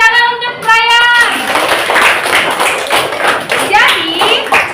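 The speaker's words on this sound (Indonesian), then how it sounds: "tepuk tangan untuk Brian" Classroom clapping from students for a classmate, a burst of many small hands close by that follows a brief voiced sound and continues with uneven patters, mixed with children's voices.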